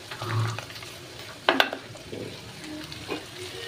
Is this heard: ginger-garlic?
yes